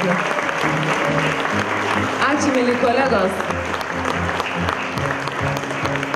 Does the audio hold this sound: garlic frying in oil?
no